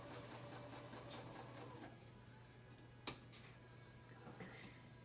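A sewing machine stitching a prayer quilt, its needle running in a faint, quick, even ticking for a couple of seconds, then a quiet hum with a single sharp click.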